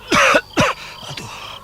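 A man coughing in pain in an audio drama: two hard, close coughs in quick succession, then a few fainter strained breaths and throat sounds.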